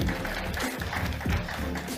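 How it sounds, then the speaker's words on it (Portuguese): Applause from an audience at a corporate venture summit on renewable energy innovation greets a speaker, a steady crowded clapping wash filling the room, with faint murmurs mixed in. "Palmas para ele, gente."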